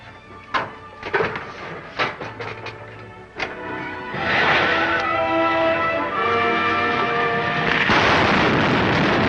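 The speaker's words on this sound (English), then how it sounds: "Fire the starting rockets, Wilma." Rocket-ship starting rockets fire in an old radio serial sound effect: a few sharp bangs and thumps first, then a loud, sustained roaring blast that swells and keeps going to the end.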